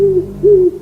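An owl hoots twice at night, a low, steady, close call with a short pause between the two notes.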